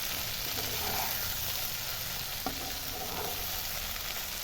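Prawns and taro stolons (kochur loti) are stirred in a pan. A steady, close frying sizzle runs throughout, with one brief utensil scrape partway through.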